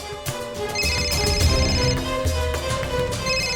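A telephone rings steadily with a bright, repeating electronic bell tone, loud and close, with a low musical bed underneath.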